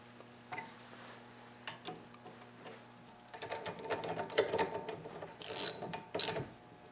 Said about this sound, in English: just go around and tighten them up evenly